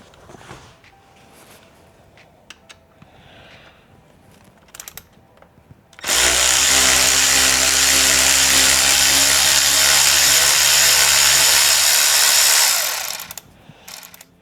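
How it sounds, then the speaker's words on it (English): A powered ratchet loosening the bolts that hold the radiator on a Triumph motorcycle, one loud, steady whirring burst of about seven seconds after quieter handling sounds, then stopping abruptly. "I'm gonna loosen up these 2 bolts that hold the radiator into position."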